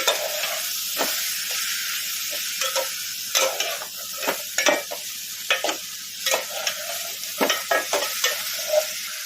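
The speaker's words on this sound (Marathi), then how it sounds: "आता त्यामध्ये आपण टोमॅटो टाकून घेणार आहोत तोही छान असा परतून घेणार आहोत" Chopped tomatoes sauté for sambar in a hot pan, with a steady sizzle broken by repeated scraping stirs of a spoon, close and clear with no talk.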